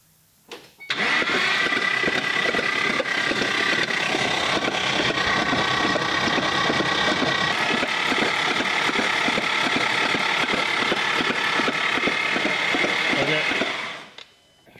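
A Ford 5.0 V8 cranks over with its spark plugs removed, the starter driving a fast, even, rhythmic chugging with air puffing from the open plug holes, loud and continuous for about thirteen seconds before stopping.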